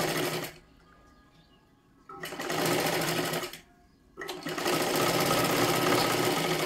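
Sewing machine stitching a princess-cut blouse runs in two loud, dense mechanical bursts of rapid needle clatter, separated by short quiet pauses, then keeps running steadily to the end.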